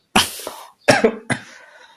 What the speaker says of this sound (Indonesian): saya agak batuk-batuk ini masih sakit